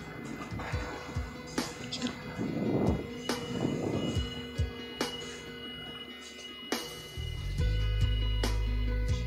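A Long Island Rail Road commuter train rumbles and clatters over the rails from inside a carriage, with rhythmic knocks and hums and a low roar that swells near the end.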